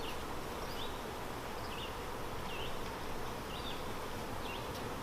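Honeybees buzz around opened hives during a cell-building inspection, a dense, steady drone that fills the whole stretch, with faint chirps over it.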